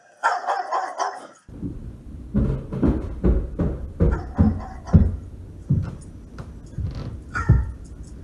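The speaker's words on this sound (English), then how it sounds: "Oh, thank God. It's just a dog." A dog barks repeatedly at close range, loud sharp barks in an uneven rhythm mixed with whimpers and yips, with no talking.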